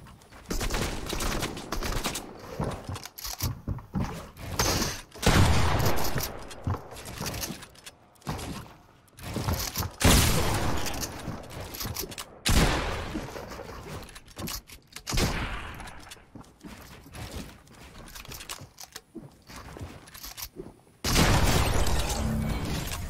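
Shotgun blasts from a video game, heavy booming shots in irregular bursts with clattering impacts, loud and close, a sharp final burst near the end.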